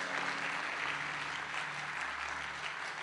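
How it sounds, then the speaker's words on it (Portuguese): A church congregation applauds during a sermon, producing a continuous, even wash of many clapping hands at moderate level, steady from start to finish, with a low hum underneath. "Você devia aplaudir o Senhor"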